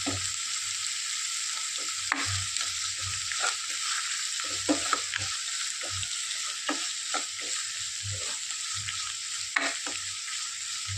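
Onions sauté in a pan with salt for Kerala-style corn uppumavu. A continuous soft sizzle runs throughout, with regular scraping knocks from a spoon stirring through the pan.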